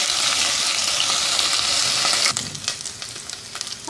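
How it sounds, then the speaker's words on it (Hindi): Whole spices and garlic ginger paste sauté in hot oil in a cooking pot, giving a loud continuous sizzle that abruptly softens midway into a lighter crackle with scattered stirring scrapes. "मिक्स कर देंगे अच्छी तरह से और 1-2 मिनट इसको सौते करेंगे"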